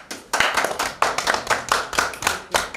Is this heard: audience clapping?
yes